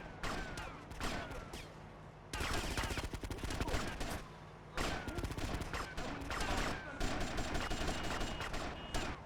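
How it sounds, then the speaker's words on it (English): Rapid gunfire crackles through a shooter match in the 2019 demo of Shine O' Vice, dense bursts of automatic shots broken by brief pauses, loud and close throughout. "That's you who's shooting me."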